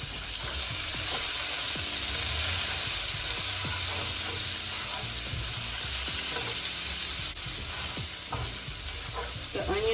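Diced onions, julienne cut, sizzle in oil in a pan alongside browned chicken tidbits, a steady close frying hiss with scattered pops and the scrape of stirring throughout.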